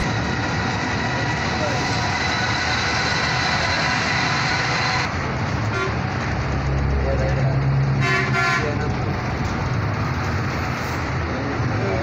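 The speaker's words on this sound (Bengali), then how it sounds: "যে দুটি হানিফকে ক্ষিপ্ত গতিতে আমাদের ওভারটেক করতে দেখলেন" Hanif Paribahan buses overtake at speed on a Dhaka to Rajshahi highway, with a loud continuous road roar, a horn blast, and a sharp rushing pass midway.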